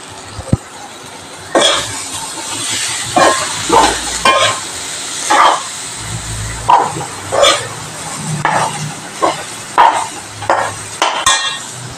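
Cooked chickpeas dropped into a pan of frying curry with green chillies, then stirred with a spoon in a steady series of scraping strokes over a low, continuous sizzle.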